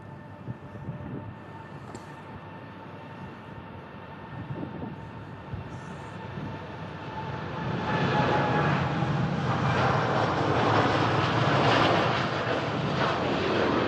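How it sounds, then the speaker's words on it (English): A Gulf Air Boeing 787 Dreamliner departing for Bahrain, a steady jet engine roar that swells louder over the last few seconds as the aircraft climbs out, heard at an airport spotting location. "787 Dreamliner from Gulf Air."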